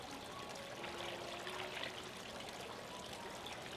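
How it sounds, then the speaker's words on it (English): Chai tea and unsweetened almond milk pouring into a blender, a soft continuous trickle and splash, faint and steady without talk. "I have 1 cup of chai tea going in, along with 1 cup of unsweetened almond milk"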